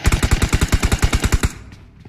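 Rapid automatic gunfire in PUBG Mobile, a steady burst of about fifteen evenly spaced loud shots over a second and a half, then a brief fading tail; no talking.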